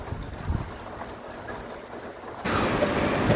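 Heavy typhoon rain pours steadily with a low rumble beneath, growing louder and denser partway through as the downpour intensifies.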